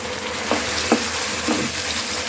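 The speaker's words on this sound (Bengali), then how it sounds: "আমি এখন সম্পূর্ণ নুডলসটা দিয়ে দিচ্ছি" Noodles going into a hot pan for chicken stir-fry, with a loud, dense sizzle throughout and a few soft knocks from tossing.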